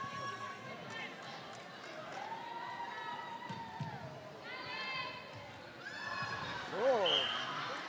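A netball crowd at an Americas World Cup qualifier rises in cheers and shouts, a broad roar swelling toward the end while a commentator talks over it.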